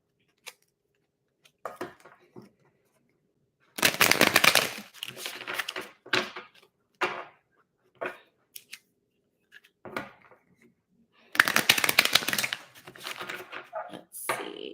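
Tarot cards are shuffled by hand in two dense bursts of rapid riffling and flapping, with scattered softer taps and card handling between them, close and otherwise quiet.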